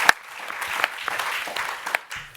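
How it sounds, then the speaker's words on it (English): A crowd applauds with scattered, crisp hand claps, moderately loud and steady for a couple of seconds. "a big round of applause"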